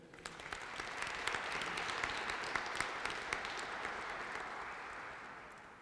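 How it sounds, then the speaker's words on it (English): Sustained applause from an audience at a Black History Month opening ceremony, steady clapping filling the room for several seconds and tapering slightly at the end. "give yourselves a great round of applause for being here today"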